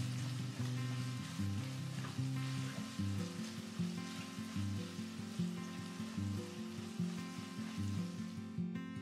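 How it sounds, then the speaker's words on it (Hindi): Onions fry in a pan until golden brown for a sesame chicken curry. A steady sizzling hiss continues throughout, with rhythmic music playing underneath. "ऑनियन को हम गोल्डन ब्राउन होने तक फ्राई करते रहेंगे।"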